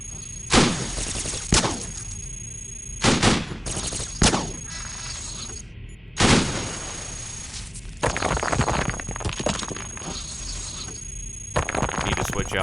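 Heavy weapon fire from the video game Cogmind, including a Gauss cannon, comes as a series of sharp, loud blasts, each with a brief decaying tail, spaced irregularly and then clustered more densely toward the end.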